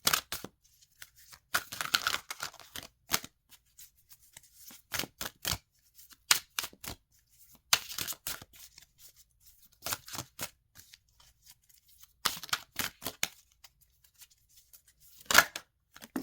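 Animal Oracle cards being shuffled in short bursts of papery riffling and snapping, separated by quiet pauses, close and fairly soft with no talking.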